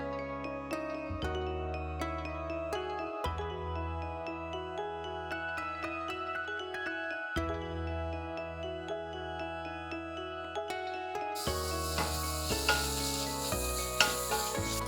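Onion and masala sauté in oil left over from frying chicken, giving a soft steady sizzle with stirring under background music that swells into a louder, fuller sizzle near the end.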